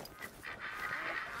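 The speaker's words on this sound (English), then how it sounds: "Holy! Attack of the ducks." Ducks and geese calling in a hunting video game, a dense, continuous flock clamour of honks and quacks at moderate loudness with no voices over it.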